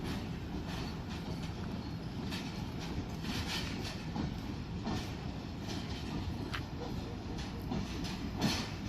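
Pakistan Railway's 147 Up train departs Sargodha at night with a steady rumble and faint rhythmic wheel clatter, heard from trackside at moderate distance, and a brief louder rattle near the end.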